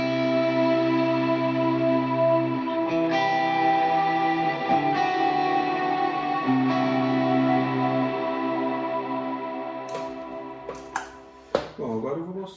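Electric guitar played through a long reverb pedal rings out in sustained, slowly shifting chords with deep ambient tails, ending with a few brief string noises.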